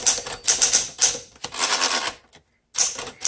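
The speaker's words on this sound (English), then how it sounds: "each typewriter keyboard is different, and that's why I keep double hitting or hitting two or three at the same time" Fast typing on a 1960 Smith Corona Sterling manual typewriter, heard up close as dense bursts of sharp key strikes and clacks with some double hits, broken by a brief pause before the typing resumes.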